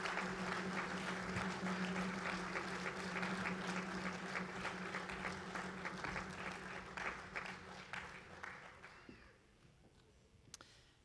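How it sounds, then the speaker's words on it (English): Warm, sustained applause from a crowd honours graduates at a Pasifika graduation celebration for Massey University in Manawatu, with a low steady hum beneath it, gradually tapering off near the end. "let's acknowledge the success of our graduates by giving them a round of applause"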